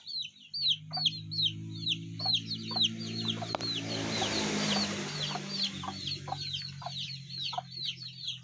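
A flock of chickens in a farm brooding area, with newly hatched chicks, peeping high and rapid throughout while deeper clucks run underneath, fairly close and busy, with no talking.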